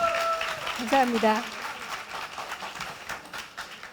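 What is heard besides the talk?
audience applause for panelists at a talk concert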